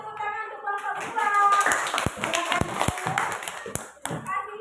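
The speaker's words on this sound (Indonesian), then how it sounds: "kasih tepuk tangan untuk kelompok 2" Schoolchildren in a classroom clap for a group of classmates during a lesson, a burst of scattered hand claps and taps mixed with children's voices and chatter throughout.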